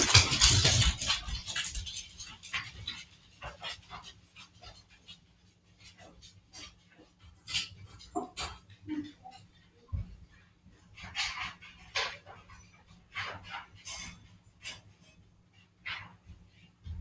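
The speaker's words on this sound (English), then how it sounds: "I'm going to try and put these dogs in the crates." Dogs being put into crates pant and whimper nearby in short irregular bursts, with rustling and shuffling movement and a few soft thumps.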